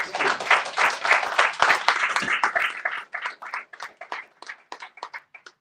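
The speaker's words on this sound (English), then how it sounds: "Can we have another round of applause?" A celebration audience claps in dense applause that is strong at first, then thins into scattered individual claps as it fades out.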